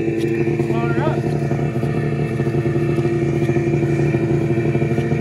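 A stock snowmobile engine runs steadily and loud throughout, with a dense engine drone and a brief rising whine, while people talk over it.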